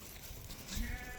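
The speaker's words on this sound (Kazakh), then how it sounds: "Арашан урғачы қозылар сатылады" A single brief bleat comes from a flock of female Arashan-breed lambs about five to six months old. It is faint and distant against a steady outdoor background hiss.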